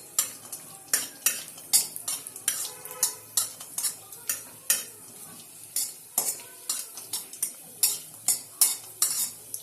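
Cashews and raisins fry lightly in ghee for carrot halwa, with steady close sizzling and a spoon repeatedly scraping and clinking against the pan in quick, irregular strokes throughout.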